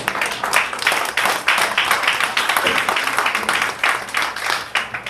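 A church congregation breaks into loud, close applause during a Spanish-language sermon, vigorous overlapping clapping in quick bursts that swells and dips across the whole stretch with no talking.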